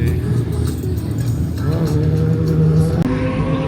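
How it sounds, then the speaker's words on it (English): A Subaru WRX (VB) drift car pulls away at a car show, its engine a loud, steady low rumble throughout, with a brief pitch rise as it drives off and crowd chatter in the background. "So Mike heading out in his VBWRX."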